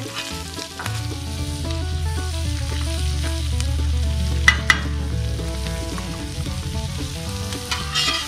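Potatoes and chopped green onions fry in a cast iron Dutch oven over an outdoor campfire, a strong steady sizzle with a couple of sharp clinks, music-like tones underneath and no speech.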